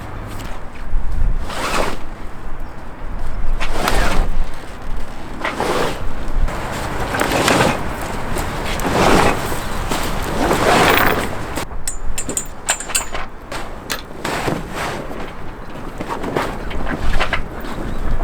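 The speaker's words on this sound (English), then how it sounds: "I'll just go over and start winching it up." A winch hoists a forestay furler aboard a yacht, giving a run of repeated cranking bursts about every couple of seconds over steady wind noise, close and fairly loud, with no talking.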